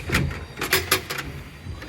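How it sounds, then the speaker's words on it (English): Drawers of a solid knotty pine tall boy dresser are pulled open, stiff wooden scraping and a few uneven rubbing bumps at close range, with no talk. "The drawers don't open too terribly well."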